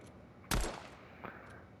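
A single sharp pistol shot from a first-person Fortnite weapon, loud and close, followed by a fainter second report about three-quarters of a second later.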